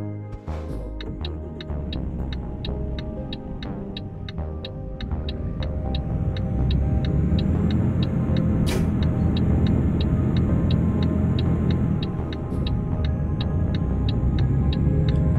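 A heavy truck engine in Euro Truck Simulator 2 drones and revs close to the red line as the rig pulls onto the open road, a deep steady rumble that rises in loudness, with a regular ticking running through it.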